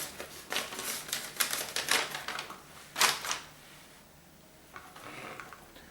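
A round sheet of paper for a Smartbin Air strainer is torn along a marked line, giving a series of quick, crisp ripping bursts followed by quieter rustles, close by with no speech.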